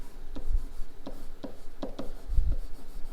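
Pen strokes scratching across paper while chemistry notes are written, several short bursts of scribbling spaced irregularly, close and fairly quiet with no talk.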